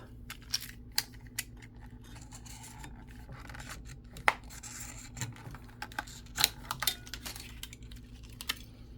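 A Hot Wheels Datsun 510 wagon blister pack being opened up close: quiet cardboard and plastic scratching, rubbing and tearing, broken by a few sharper snips and clicks.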